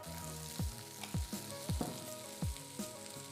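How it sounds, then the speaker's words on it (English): Onions frying in olive oil in a pan: a steady sizzle with five or six louder low thumps and stirring scrapes spaced about half a second apart, no talk. "all the onions into the pan"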